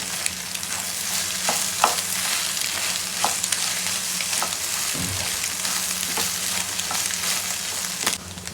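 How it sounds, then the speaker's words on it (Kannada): A potato and egg mixture sizzles steadily in a hot pan, a close continuous frying hiss broken by occasional scrapes and clicks of stirring, with no voices. "ಇವಾಗ ಮಿಕ್ಸ್ ಮಾಡ್ಕೊಳ್ಳೋಣ ಪಟೋಟೊ ಮತ್ತೆ ಸೊ ಎಗ್ ಜೊತೆ ಮಿಕ್ಸ್ ಮಾಡ್ಕೊಳ್ಳೋಣ"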